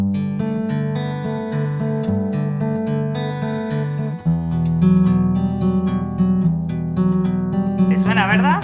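Fingerpicked guitar plays the arpeggiated intro of a song, a steady, clear pattern of ringing notes that continues alone throughout with a brief bright flourish near the end.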